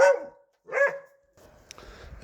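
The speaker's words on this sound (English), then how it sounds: "Yeah, it's a dog." A dog barks twice, close and loud, with short sharp yaps separated by a pause, and faint street noise follows.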